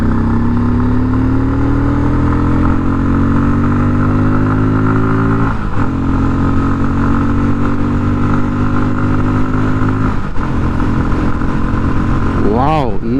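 A Bajaj Pulsar 250 motorcycle engine pulls steadily as the throttle opens, its rising drone heard up close and loud with two gear-change dips and a final sharp rev.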